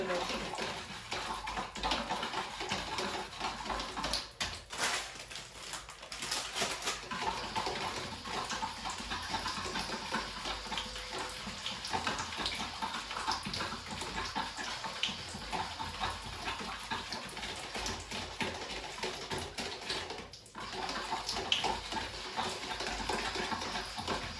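Warm water runs steadily into a bucket for a long stretch, a continuous rushing splash with faint voices murmuring in the background.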